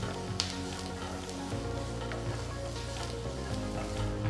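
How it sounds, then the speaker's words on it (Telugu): Three finely chopped medium onions sizzle and fry in a few teaspoons of oil in a pan, a steady close crackle with occasional stirring taps of a spoon. "ఇందులో చిన్నగా తరిగిన 3 మీడియం సైజ్ ఉల్లిపాయలు వేసి వేయించాలి."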